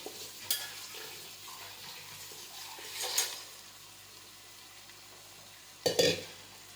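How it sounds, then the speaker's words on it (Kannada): Precooked cauliflower tossed into a sizzling spiced tempering pan, with faint steady frying hiss and a few scraping stirs, the loudest clatter of spoon against pan near the end. "ಕಾಲಿಫ್ಲವರ್ನ ನಾವು ಈಗ ಈ ಒಗ್ಗರಣೆಗೆ ಹಾಕ್ತಾ ಇದ್ದೀವಿ."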